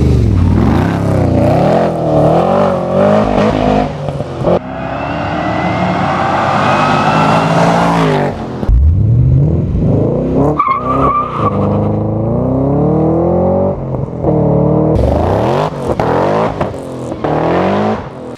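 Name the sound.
supercharged V8 car driving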